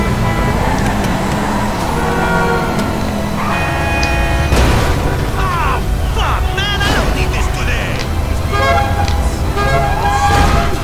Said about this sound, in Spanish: me ha encendido la sirena y ya ahora sí la enciende de verdad y ya va por mí